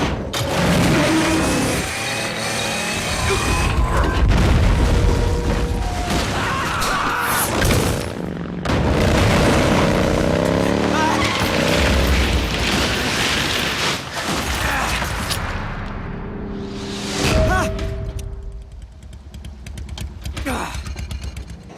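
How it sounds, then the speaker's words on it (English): C4 explosions from the stealth video game Metal Gear Solid 3: Snake Eater, a few booming blasts mixed into a dense bed of game music and mechanical effects, with voices heard along the way. "Oh, there's the C4 explosions."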